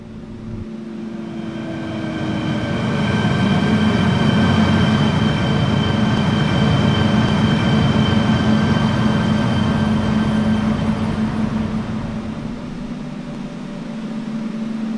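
Hong Kong MTR Tung Chung Line K-Train arriving in the Hmmsim 2 train simulator game, a steady rumbling rolling sound with sustained tonal whine, swelling then easing as it slows, with no talk.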